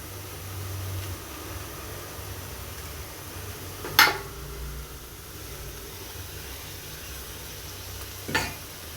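Potatoes go one by one into a hot pan of spiced oil for a Bengali soybean and potato curry, giving a steady sizzle with two sharp clatters as pieces drop in.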